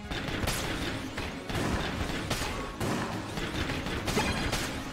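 The Skull Spitter gun in the game Exit the Gungeon fires in a rapid, continuous barrage of loud shots, bursts overlapping densely with brief dips between volleys and no speech.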